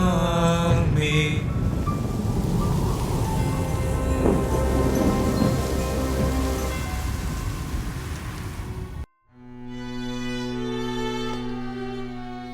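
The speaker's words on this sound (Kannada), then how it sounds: "ಮತ್ತೆ ಈ ಬಿರುಗಾಳಿ ಬೀಸೋ ಥರ ಇದೆ" Heavy rain pours in a thunderstorm with strong wind, a loud dense roar with rumbling thunder for several seconds before it cuts off abruptly into sustained musical tones.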